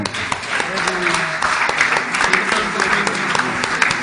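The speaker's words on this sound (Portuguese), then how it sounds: "uma salva de palmas para vocês" The audience at a 2008 SAPO Codebits tech-event quiz gives the contestants a steady round of applause, a dense, continuous patter of many hands with a voice faintly audible underneath.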